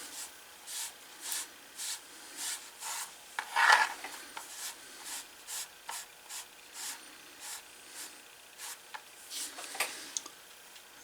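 A t-shirt rag is rubbed over a leather holster strap for a 1936 Luger, making a steady series of soft, regular rubbing strokes about twice a second, close and quiet, with no talking.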